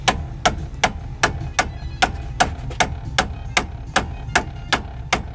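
A hammer strikes metal in a steady rhythm, about a dozen sharp ringing blows spaced evenly, loud and close.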